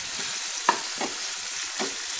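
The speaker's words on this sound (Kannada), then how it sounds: "ಇದನ್ನು ಒಂದು 2 ನಿಮಿಷ ಫ್ರೈ ಮಾಡ್ಕೊಳ್ಳಿ." Red chutney ingredients fry in a hot pan with a constant soft sizzle, broken by a few short scraping stirs of a spoon, close and without speech.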